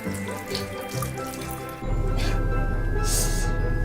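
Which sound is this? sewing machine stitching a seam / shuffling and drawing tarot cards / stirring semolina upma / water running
water running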